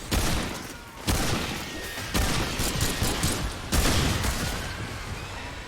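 Gunfire in the video game Remnant 2, repeated bursts of shots and booming impacts arriving in several sharp clusters, loud and close, each followed by a decaying rumble.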